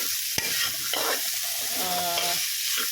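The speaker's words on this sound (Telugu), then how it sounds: "ఇది కూడా వేసేసుకొని బాగా ఫ్రై అవనిద్దాం" Ingredients fry in oil and ghee for tomato rice, a steady broadband sizzle running throughout with a sharp utensil tap early on and scraping stirs mixed in; close and fairly loud, no voices.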